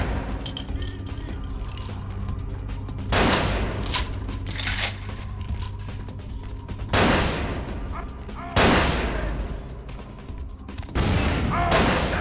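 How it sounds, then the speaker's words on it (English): Explosions in the video game Vampire: The Masquerade - Bloodlines, with several booming blasts at irregular intervals over a constant low rumble, each rising sharply and then trailing off. "What is exploding?"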